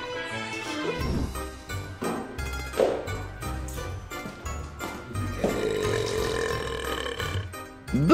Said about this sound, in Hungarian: Böfögő!